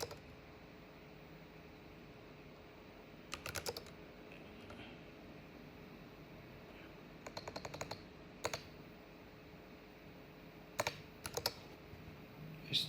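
Password typed on a computer keyboard: faint clusters of quick key clicks come in short bursts separated by pauses, over a soft steady background hiss.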